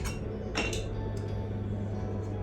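A metal kettle from a camp cook set is handled up close, giving a few sharp clinks and clanks of metal against metal over a steady low hum.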